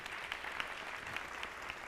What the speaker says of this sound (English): Big round of applause for them too.